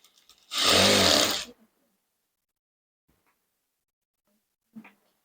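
A sewing machine runs in one steady burst of under a second, stitching bias-cut fabric strips onto a princess-cut blouse. A faint click follows near the end.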